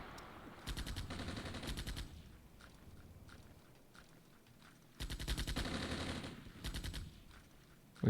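Bursts of gunfire from the armored warfare game Armored Brigade, Czechoslovakia/Netherlands nation pack, in two loud sustained volleys with scattered quieter shots and rumble between them, no talk.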